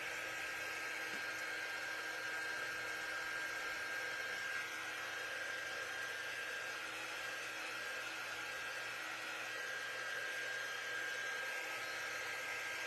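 A hair dryer drying a framed zinnia craft project, a steady close whirring hum that runs unbroken the whole time with no talking.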